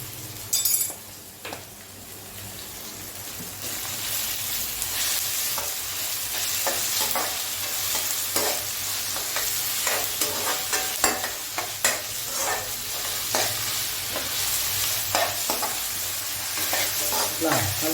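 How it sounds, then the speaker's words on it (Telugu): Chicken curry with ginger paste fries on a high flame as it is stirred, a steady hiss under repeated scraping and clinking of the spoon against the pan, without speech. "వేస్తూ మంచిగా మిక్స్ అయ్యేటట్టు చూడాలి. ఫ్లేమ్ ఎక్కువ పెట్టాలి."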